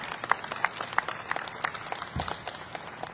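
Scattered claps from an audience at an outdoor press event about the New Jersey Symphony Center under construction in Jersey City, a few sharp hand claps over a steady background murmur, moderately near but fairly subdued.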